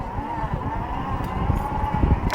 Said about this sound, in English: So to get a wheelie on the P51, you have to hit the throttle first,